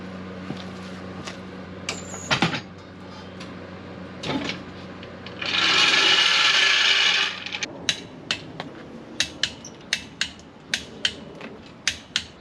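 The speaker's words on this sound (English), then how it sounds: "let's lower this thing down and let's tighten both these wheels." A Jeep TJ is lowered off a jack with a long steady mechanical whir, bracketed by clanks and metallic knocks, then a run of sharp ratcheting clicks and taps as the wheels are tightened.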